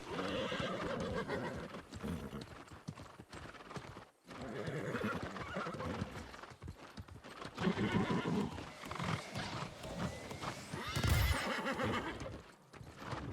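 A horse in the video game New World whinnies repeatedly while its hooves clip-clop steadily along a road, loud and close throughout, with no voices.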